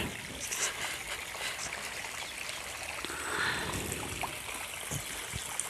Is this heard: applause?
no